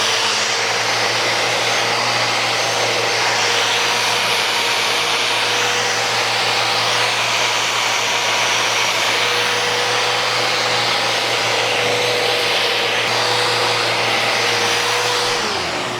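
A Festool Rotex 90 sander fitted with an interface pad works a live-edge wood surface, giving a loud, steady whir with a constant low hum that runs unbroken from start to finish.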